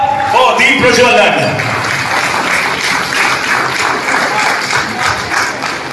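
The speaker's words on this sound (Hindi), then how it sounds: "आवाज तालियों से पूरा सभागार गूंज जाना चाहिए" Audience applause fills an auditorium for a ceremonial lamp lighting, a steady loud wash of clapping that holds for the whole stretch, with an amplified voice over it at the start.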